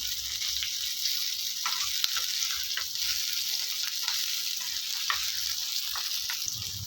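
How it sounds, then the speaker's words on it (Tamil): Onion and dried red chillies sautéing in hot oil, a continuous close sizzle and crackle with occasional scraping stirs and small pops, no talking. "வெங்காயம் வதங்கணும்னு இந்த காஞ்ச மிளகாவும் நல்லா வதங்கணும் நல்லா இந்த எண்ணெயிலே வதக்குனிங்கன்னா"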